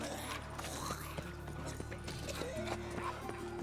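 Horse hooves in The Witcher 3 clip-clop in a steady walking rhythm, quiet and mixed with clanking tack and background game ambience, with no one talking.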